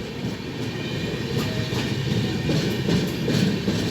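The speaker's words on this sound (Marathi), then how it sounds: "आता ही गाडी या ठिकाणी बोगद्यातून जाणार." A Duranto express running from Nagpur toward Mumbai CSMT rumbles steadily along the tracks, its wheels beating out a regular clickety-clack over rail joints, loud and close from start to finish with no voices.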